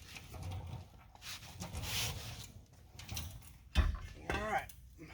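Metal clicking and ratcheting as a part is bolted onto the back of a Cummins diesel crankshaft for a jet boat build, with scattered mechanical clanks in a workshop, one sharper knock near the end and faint voices in the background.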